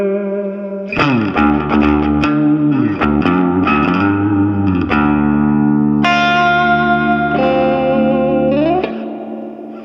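Electric guitar played through a Dr Z Maz 18 Jr amp plugin with an overdrive pedal, loud and driven with sustained chords and single notes ringing alone, plus a faint background hiss.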